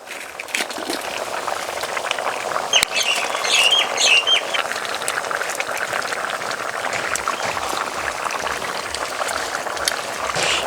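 Bata fish simmering in a tangy green tomato curry, a steady close bubbling and soft sizzle running throughout with faint chirping in the background.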